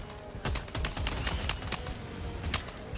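Rapid gunfire from the video game Helldivers 2 crackles in dense bursts of sharp reports over a constant busy game background, with no talk.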